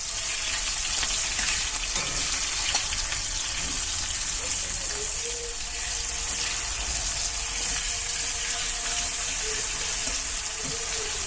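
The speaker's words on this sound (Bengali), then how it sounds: "তেজপাতাকে একটু লালচে লালচে ভেজে নিয়ে" Bay leaves and cumin fry in hot oil with a dense, continuous sizzle close by, plus occasional soft clatter from stirring.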